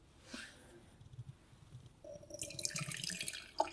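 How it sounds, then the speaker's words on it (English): Roasted oolong tea poured from a vessel: a short trickle early on, then a fuller splashing pour in the last half, close and moderately loud, with no talking. "That didn't feel like a good pour either."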